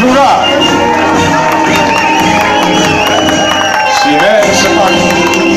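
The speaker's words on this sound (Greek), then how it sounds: "Ένα γερό χειροκρότημα στην προεδρική μας φρουρά." A village crowd welcoming the Greek presidential guard cheers and shouts loudly at an outdoor event, with whoops and some clapping in a dense, continuous roar, while voices call out over it.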